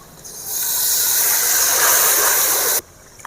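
Water poured into a pan of frying garlic and chili powder bursts into a loud, steady sizzling hiss lasting about two seconds, then cuts off abruptly, with no voices.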